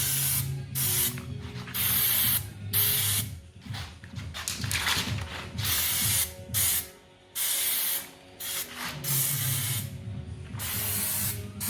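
Loud bursts of spray paint hissing from a can, repeated in long and short blasts with brief pauses, alongside a low rumbling hum, during a Land Rover Defender rebuild.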